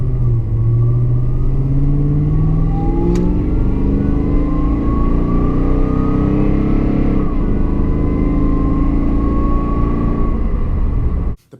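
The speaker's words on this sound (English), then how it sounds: "It's got that great supercharger whine." A supercharged 2019-2021 Toyota Tundra accelerates hard, its engine roar climbing through the gears beneath a rising supercharger whine, close and loud, then cutting off abruptly.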